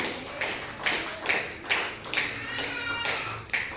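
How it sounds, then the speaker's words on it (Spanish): A church congregation claps in steady rhythmic beats, about eight claps spread evenly, moderately loud with a roomy, crowd-like spread and no talking. "Aplauda el nombre de Jesús."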